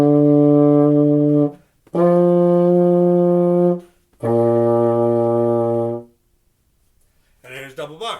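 Three long, sustained whole notes on a baritone horn, each held about four beats with brief breaths between, full and close, then a short bit of speech at the end.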